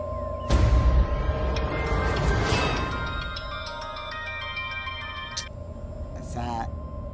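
A mobile phone rings with an incoming call in a Telugu film scene, a bright melodic ringtone repeating for several seconds and then cutting off, with people talking and background noise around it.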